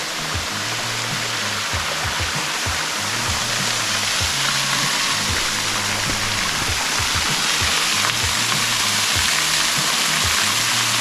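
A small waterfall on a hike rushes in a constant, loud, broadband roar of falling water, with no voices over it.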